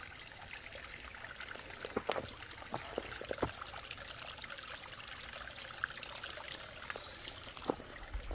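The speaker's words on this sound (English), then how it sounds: "Little babbling brook." A little babbling brook on a Missouri hiking trail in Lost Valley, water trickling and splashing continuously at close range with a few brighter drips and gurgles standing out, no speech.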